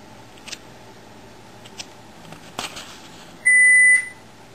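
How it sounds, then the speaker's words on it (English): A phone gives a short electronic beep, a steady tone lasting about half a second that stands out loud and clear against a quiet room after a few soft handling clicks. "Sorry about that. That's my phone."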